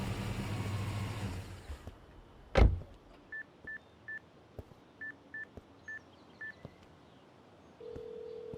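Touch-tone keypad on a telephone being dialed: a run of about eight short, evenly spaced beeps in quick succession, heard after a loud thump and a passing car's noise, with a faint hum near the end.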